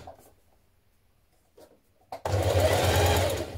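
A sewing machine stitches fabric with a twin needle, starting with a few faint ticks and short bursts, then a loud, fast, steady close-up mechanical whirr running through the last second and a half.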